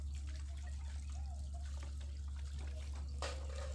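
Dishes being washed under running water from a tap: a steady trickle and splash with occasional clinks, a low constant hum beneath, and a brief sharper burst near the end.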